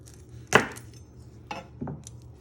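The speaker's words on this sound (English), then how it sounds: "You first want to chop the ends off" A kitchen knife cuts the ends off garlic cloves on a board, giving three close, crisp chops with short pauses between them.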